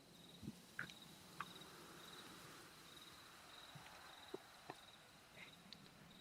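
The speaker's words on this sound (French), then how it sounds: "tu entends le doux son d'une jungle la nuit" Night jungle ambience on a tabletop role-play soundtrack: a faint, steady bed of insect and cricket chirring with occasional soft clicks and scattered distant calls, no voices over it.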